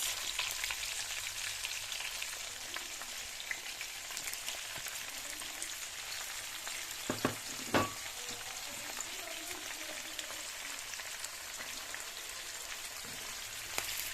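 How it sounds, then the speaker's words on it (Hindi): Onions hitting hot oil that already holds cumin, for a bhindi (lady finger) dish, give a steady close sizzle and crackle on high flame, with a couple of sharp clanks partway through and no talking. "जीरा शामिल करने के बाद अब हम उसी ऑयल में डाल देंगे अपने प्याज"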